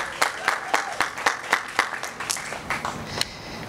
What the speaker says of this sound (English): Yes, that deserves a round of applause.